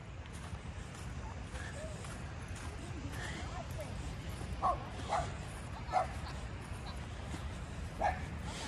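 A few short, sharp dog barks and yips ring out at intervals over a steady background hum, with no talking.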